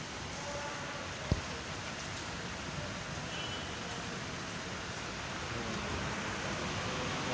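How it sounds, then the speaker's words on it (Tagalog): Heavy rain pours steadily on a delivery rider's sacks and cardboard cover in Alabang, a dense broadband wash that stays constant throughout with one brief sharp knock near the start. "lakas ng ulan."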